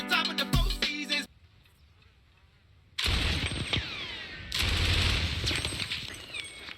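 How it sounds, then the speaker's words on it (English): Gunfire from the war drama series Generation Kill: a loud burst, a brief lull, then sustained heavy volleys of rifle and machine-gun fire. "Wasting all these bullets trying to suppress 2 people that you probably hit."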